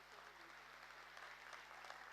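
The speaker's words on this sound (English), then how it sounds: "A round of applause, please." Audience applauding a keynote speaker at an HR conference in Kuching, a steady wash of many hands clapping at moderate distance throughout, faint and even, with no talking over it.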